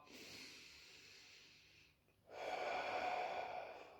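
Two slow, close breaths: a long airy exhale fading out, a short pause, then a fuller breath drawn in through the nose, soft and alone with no talk.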